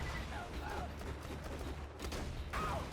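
Sniper rifle shots from a Borderlands shooter crack through dense, busy game audio, several sharp reports spread over a few seconds at low overall loudness, with faint voices in the mix.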